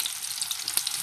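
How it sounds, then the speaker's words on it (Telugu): Onions fry in hot oil with a continuous close, crackling sizzle, bright and steady with one sharper pop partway through, no voices. "చూడండి ఉల్లిపాయలు వేగుతున్నాయండి."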